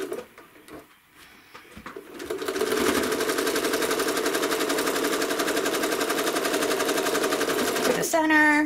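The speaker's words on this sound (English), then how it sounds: "So I'm going to continue stitching." A home sewing machine stitches a quilt block for an hourglass pattern using rulers, giving a steady rapid mechanical chatter that runs for several seconds after a brief stretch of quiet handling sounds.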